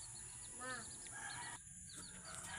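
Backyard chickens, including a black hen, cluck and call close by in short bursts, with one brief crow-like rising call and quieter clucks scattered through the clip.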